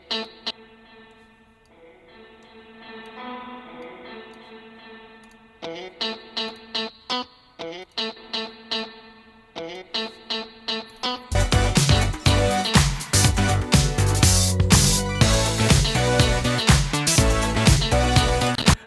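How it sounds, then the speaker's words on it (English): An electric guitar plays through a parallel spring reverb emulation in Ableton Live, wet and splashy, starting sparse and picked, then building into dense, loud strummed chords. "I've got one set up in parallel doing a very good emulation of a nice spring reverb"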